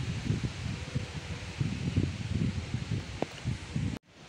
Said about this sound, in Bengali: প্রচণ্ড বাতাস বইছে